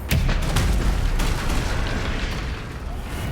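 A blasting-spell explosion cast in the Hogwarts Legacy video game: a loud, boomy burst at the start followed by a sustained rumbling roar and crackle that stays dense and steady to the end.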